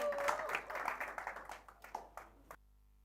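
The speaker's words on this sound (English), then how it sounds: "Please welcome them with a round of applause." An audience applauding to welcome a band onto the stage, starting as a full burst of clapping, then thinning into a handful of scattered, separate claps before cutting off into silence.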